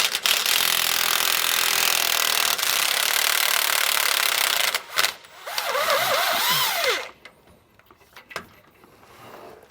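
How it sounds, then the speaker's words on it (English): An impact wrench with a 15/16 socket loosens bolts under a 2005 Winnebago Adventurer RV, making a loud, steady rattling roar for about seven seconds that breaks briefly near the end before stopping into quiet. "I'm going to be using a 15/16 socket on my impact to kind of get these going"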